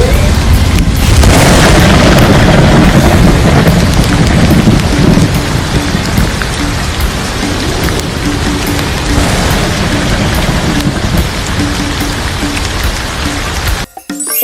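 Heavy rain pours steadily with deep rolling thunder rumbling underneath, loud and close throughout, ending abruptly.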